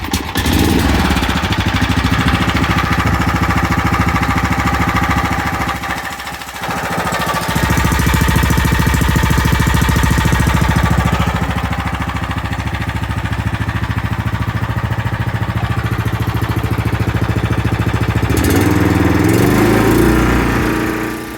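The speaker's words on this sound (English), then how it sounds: "let's go ahead and fire this up, and I'm going to cut you guys over to the mowing portion of the video" Snapper Pro 36-inch hydrostatic walk-behind mower (SPLH140KW) starting up and then running steadily, a loud continuous engine drone that dips briefly before settling into a constant roar with no talking.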